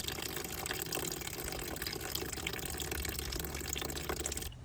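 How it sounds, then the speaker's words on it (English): Coolant from a Vauxhall Corsa 1.4L engine pours out of an opened drain bolt in a steady, close, continuous gush of splashing liquid, cutting off abruptly at the end. "it should release all the coolant out. As you can see, it's all coming out."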